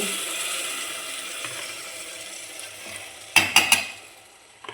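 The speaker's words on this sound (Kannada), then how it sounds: "ನೋಡಿ, ಇದೇ ತೆಂಗಿನಕಾಯನ್ನ ಇವಾಗ ಹಾಕ್ತಾಯಿದ್ದೀನಿ." Coconut milk poured into a hot, sizzling pan for vegetable ghee rice, with a steady frying hiss throughout and a few sharp stirring clatters near the end.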